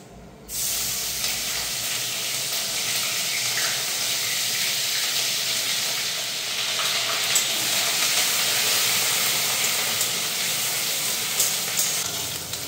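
Grated onion and panch phoron sizzling steadily in hot oil left from frying fish, a loud, continuous frying hiss that starts abruptly and runs unbroken with no talk.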